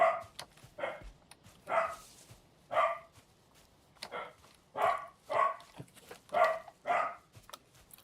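A dog barks loudly and close by in a rapid run of about ten sharp barks with short, uneven gaps, with no voices over it.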